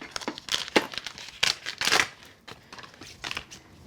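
Embossed cardstock is peeled out of a tight embossing folder, giving close crinkling and crackling bursts of stiff paper and plastic separating in uneven spurts, with no talking.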